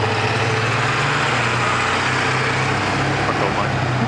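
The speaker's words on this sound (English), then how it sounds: "I just want to let that truck go by so there's not too much noise." Truck engine passing a traffic light on Route 110 at a newly activated signal, a steady low rumble with a droning hum throughout, moderately loud and continuous against road noise.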